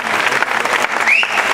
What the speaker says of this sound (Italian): volevo un grandissimo applauso per questi musicisti